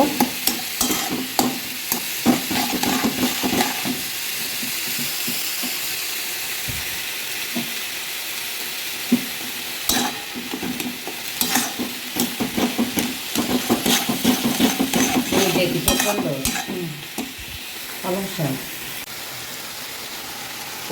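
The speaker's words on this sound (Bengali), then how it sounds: "চিনি দিয়ে খানিকটা নাড়াচাড়া করে নেব।" Tomatoes with sugar are stirred in a frying pan, a spatula scraping and clacking in irregular bursts over a constant sizzling hiss, close and fairly loud with no talking.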